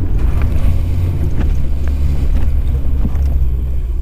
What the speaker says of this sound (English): And the engine braking is holding the car up really nicely.